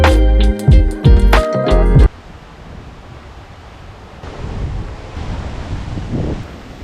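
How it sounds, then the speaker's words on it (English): A brief tonal sound opens, then gusty wind rumbles against the microphone on a walking trail, rising and falling in strength. "It's really windy."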